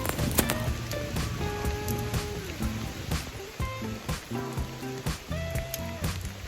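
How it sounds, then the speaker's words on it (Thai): Steady rain patters on a Decathlon raincoat rated to 25,000 mm waterproofing, a dense close hiss with sharper individual drops striking the fabric throughout. "ไป ดูตอนใส่ตากฝนกันครับ"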